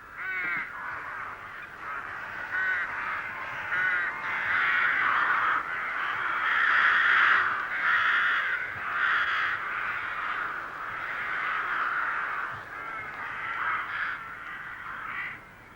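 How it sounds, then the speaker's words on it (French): Thousands of crows caw together in a dense, continuous chorus, a loud massed clamor that swells and eases steadily throughout with no single call standing out. "des milliers d'oiseaux"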